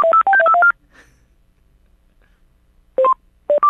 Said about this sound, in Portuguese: Vai, liga cobrado de novo,